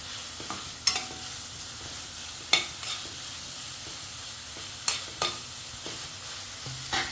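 Beetroot sautéing with tomato in a pan for beetroot Bengal gram curry, a low continuous sizzle broken by a few sharp spoon scrapes and clinks at irregular intervals.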